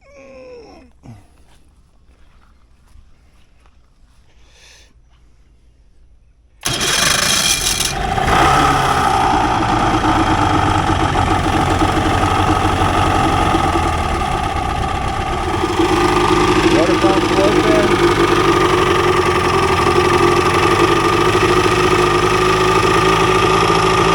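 An 85 HP Mercury outboard motor cranks and catches after a few quiet seconds, then runs loudly and steadily, its drone rising slightly as throttle comes up partway through.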